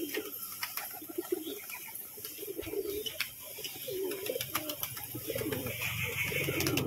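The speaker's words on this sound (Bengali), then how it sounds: "পায়রার বাজিও দেখাবো কেমন" Pigeons coo softly in repeated low, throaty phrases, with a faint voice in the background and steady ambient noise around them.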